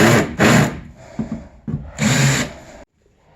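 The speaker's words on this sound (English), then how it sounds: "let's get out another little sander thing" A small handheld power sander enlarging holes, running in loud, close bursts: two quick runs, a few short blips, then one longer run before it cuts off to silence.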